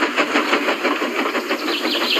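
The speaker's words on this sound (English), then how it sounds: "All he could do was watch the trains rushing through the other tunnel." Trains rush through a tunnel in a steady, dense roar with rhythmic rolling pulses, loud and continuous without pause.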